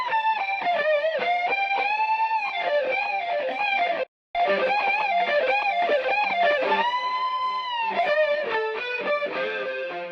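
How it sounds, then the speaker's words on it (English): Electric guitar track run through a Softube Germanium compressor, its tone thickened with added harmonic distortion; a continuous, loud melodic line with sustained notes and a brief dropout near the middle, no voices. "the compressor not only smooths out our guitar sound, but adds additional harmonic distortion"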